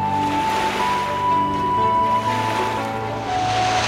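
Ocean waves surge and wash steadily with a broad hiss, while low sustained music tones run underneath throughout.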